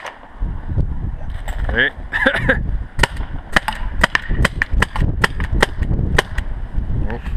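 Tippmann TiPX paintball pistol fires a series of sharp, close snapping shots at irregular intervals, with people talking in French around them.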